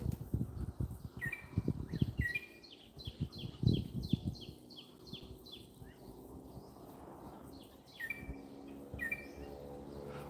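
A racket-tailed drongo sings a run of varied chirps and whistles mimicking other birds, fairly close, with low rustling and handling noise underneath.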